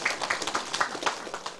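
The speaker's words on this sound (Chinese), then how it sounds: "啊，你免替我拍手哟！" A small audience at a political lecture seminar in Taiwan claps in a faint, scattered way, with a few uneven hand claps spread across a quiet room.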